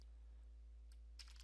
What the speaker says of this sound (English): and then hit enter on your keyboard again